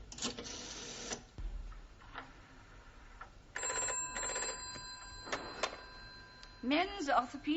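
A telephone rings several times in bursts of electronic trilling, set against room tone and occasional voices in the background.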